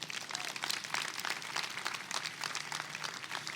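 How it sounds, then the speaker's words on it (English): Audience applause for a vocal quartet at a university convocation, a steady wash of many hands clapping at moderate distance, fairly quiet and continuous for a few seconds with no talking. "Let's give them another round of applause."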